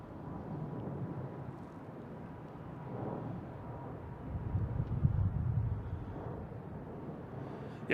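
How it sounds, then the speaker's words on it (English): A JetBlue Airbus A220 taking off at Boston Logan: a faint, distant low jet rumble that swells gradually and stays steady and hollow, with no one speaking. "JetBlue's taking off to JFK and A220."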